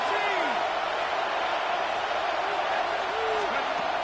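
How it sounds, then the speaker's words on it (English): A steady stadium crowd roars in the Madden 26 football video game as a third down approaches, a continuous wash of cheering noise with commentator voices talking over it. "This crowd into it now as we get to third down."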